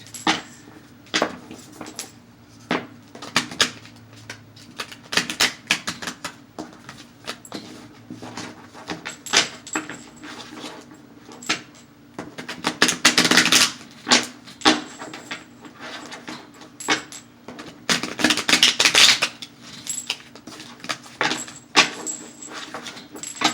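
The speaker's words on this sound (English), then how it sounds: "Shuffling my cards." Tarot cards shuffle in repeated bursts of riffling and tapping, close and crisp, with short pauses between rounds and no talking.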